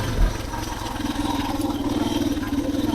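A Suzuki DR650 motorcycle running on its factory exhaust gives a steady, close, low thumping drone with a fast, even pulse that holds for the whole stretch.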